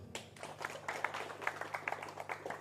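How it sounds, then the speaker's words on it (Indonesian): A crowd applauding at a religious talk, a quiet, fairly distant patter of many hands clapping, uneven and continuous for a couple of seconds. "Tepuk tangan dulu."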